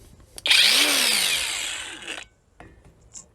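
A Belarusmash BShMA-36 cordless angle grinder spins up and runs with a loud, high, grinding whine for nearly two seconds, then stops, followed by a short clatter.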